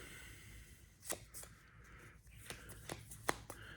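A Magic: The Gathering card is drawn from a deck, heard as faint papery flicks and a few sharp card snaps spread across a quiet tabletop scene.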